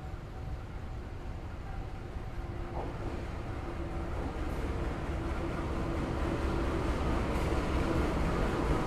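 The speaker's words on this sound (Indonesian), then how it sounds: "Rangkaian yang akan masuk di jalur 1 adalah rangkaian kereta api Dharma Wangsa" The Dharmawangsa passenger train pulls into platform 1 at a station, a deep rolling rumble that swells steadily louder with a faint steady hum over it.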